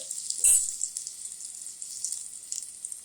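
Ginger-garlic paste hits hot oil with mustard seeds and asafoetida in a pan for suran bhaji, a sharp hiss at first that settles into a steady, close crackling sizzle.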